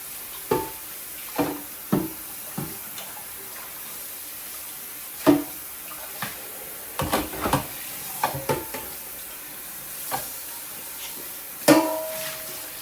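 Dried fish (bulad) being stirred and fried in a pan: a soft, steady sizzle broken by a dozen or so sharp scraping and clinking strokes of a utensil against the pan at irregular intervals, close up and with no talking.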